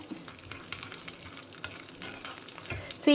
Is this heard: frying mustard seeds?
yes